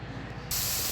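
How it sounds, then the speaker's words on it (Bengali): Ginger-garlic paste dropped into hot oil in a frying pan on a gas stove, a low background sizzle that bursts into a loud, sustained hissing spatter halfway through. "এবার হচ্ছে ভালোভাবে ভাজা ভাজা করে নেবে, করে নেওয়ার পরে দিয়ে দিচ্ছি আদা রসুন বাটা।"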